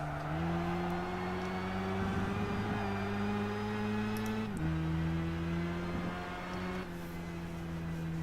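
A racing car in Gran Turismo 5 accelerates through the gears in a licence test, a loud, steady engine drone that rises in pitch, drops sharply at each upshift and climbs again.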